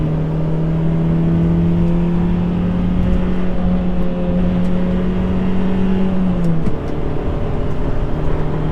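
A Toyota Celica T Sport with VTEC-style cam switchover drones steadily on the move, a constant engine hum holding pitch before dropping slightly near the end, with road and wind noise filling the cabin.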